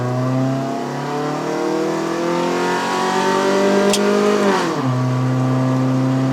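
A 1997 Toyota Corolla 1.6L AE111 engine revs steadily upward toward 6000 rpm on a mountain climb, a loud, close, rising whine that peaks then drops sharply as the revs fall, with no talk over it.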